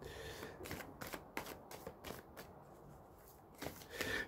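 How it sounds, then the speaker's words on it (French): Osho tarot cards are shuffled in a run of crisp, rapid riffling bursts that repeat every half second or so, close and fairly loud with no voices. "Je vais retirer quelques cartes avec le tarot de Osho."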